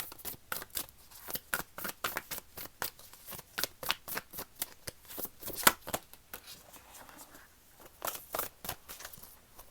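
A Nature's Whispers Oracle card deck being shuffled up close, with quick papery riffles and flicks repeating in an uneven rhythm throughout, and no talking.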